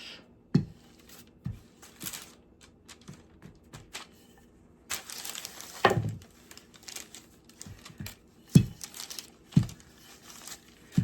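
Baking paper for a pie crinkles and rustles in scattered bursts, with a longer crumpling stretch in the middle and sharp crackles near the end, close by with no talk.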